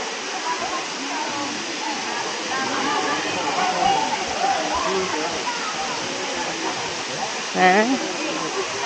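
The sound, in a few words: small waterfall, Areekkal waterfall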